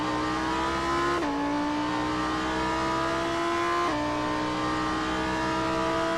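Onboard Lamborghini Super Trofeo race car at the Long Beach street circuit, engine roaring steadily at high revs with two sharp gear shifts, loud and continuous with no talk.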